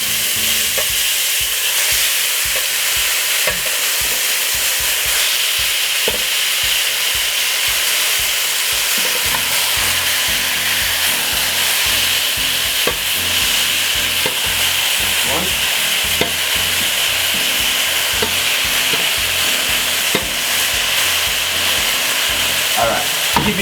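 Jamaican-style oxtails fry with garlic in a loud, unbroken sizzle, with a rapid run of stirring scrapes early on, then steady frying with occasional knocks.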